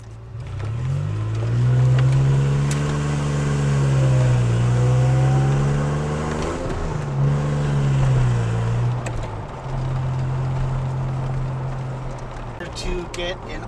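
A DeLorean with a stainless steel body idles and revs its engine up and down close by, a steady low drone swelling and dipping, with a voice talking over it.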